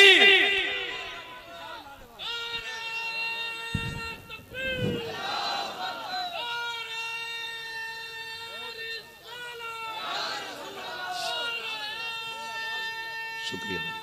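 Large crowd at a religious gathering in Moradabad responding with a loud chanted takbir slogan, many voices shouting together in sustained bursts with echo, some music-like tones and speech around it.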